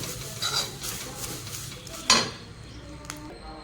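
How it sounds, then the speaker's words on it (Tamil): Curry leaves being dry-roasted for idli podi in a pan, with soft scraping and stirring, a few scattered clinks of a utensil and a quiet crackling background. "இப்போ கருவேப்பிலாம் நல்லா வறுபட்டுடுச்சு எப்படி சவுண்டு கேட்குது பாருங்கள்"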